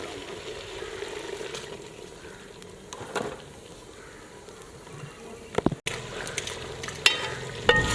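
Beef frying in a pan as three spoons of oil go in, giving a steady low sizzle throughout with a few brief clinks and scrapes near the end.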